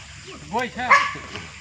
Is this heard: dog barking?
yes